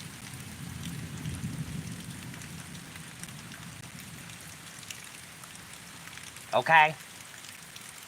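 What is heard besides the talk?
heavy rain during a severe thunderstorm in Kansas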